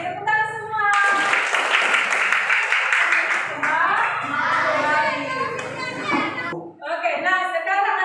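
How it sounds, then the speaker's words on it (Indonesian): A class of children clap together during an Indonesian classroom lesson, the busy, crowded clapping mixing with children's chatter and a teacher's voice, continuous and fairly loud for most of the time before a brief lull and a fresh burst. "Oke, tepuk tangan semua."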